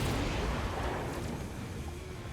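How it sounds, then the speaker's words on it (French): A missile strike in the Mechabellum strategy game comes through as a dense, steady rumbling roar of blasts and crackle that fills the whole clip and stays loud without any break. "On a missile l'un des deux packs."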